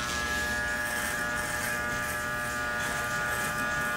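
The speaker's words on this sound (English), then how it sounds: "I'm going to use the trimmer here." An electric hair trimmer buzzes steadily and close up as it cuts a hairline outline in front of the ear, a constant whine with no break and no speech.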